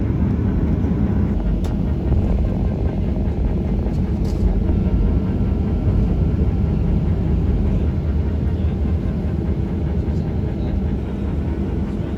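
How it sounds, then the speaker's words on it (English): MIAT Mongolian Airlines Boeing 737 on its takeoff run, a loud, steady, broadband engine roar with rumble and rattle as heard from inside the cabin, continuous for the whole stretch with no voices. "Takeoff"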